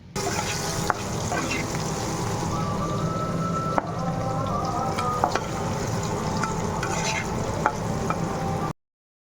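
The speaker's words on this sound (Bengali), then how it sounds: "আর এই যে আলুটা একটু ভেজে নিচ্ছি একটু বয়েল করে নিয়েছিলাম" Pre-boiled potatoes fry in a home kitchen pan, giving a close, continuous sizzle with occasional spatula clicks and stirring taps, with faint background music.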